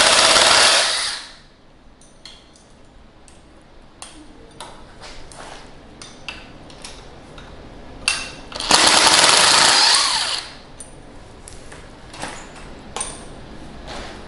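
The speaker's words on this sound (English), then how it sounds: "I'm going to use this impact drill again just to make this a little bit faster." An impact drill removes three bolts from the motor of a Pride Mobility ZT10 mobility scooter. Two loud bursts of whirring and hammering are heard, one at the start and a longer one later. Quieter clicks and handling noises of the tools and parts fill the gap between them.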